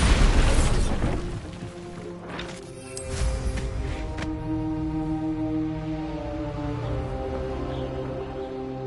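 Bombarda blasting spell in Hogwarts Legacy, a loud booming explosion at the start that dies into rumbling debris, then a sustained tonal magical hum that lingers to the end.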